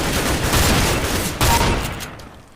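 Nova shotgun blasts in a first-person video game, loud and close, with a second sharp shot about a second and a half in over continuous gameplay noise, then fading.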